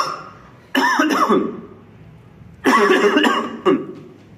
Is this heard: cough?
yes